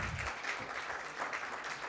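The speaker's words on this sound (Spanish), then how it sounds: "el saludo y el aplauso del auditorio, por favor, para nuestra queridísima moderadora" An auditorium audience at a Colombian security forum applauds the panel moderator, a dense, even wash of many hands clapping throughout, moderately loud and close.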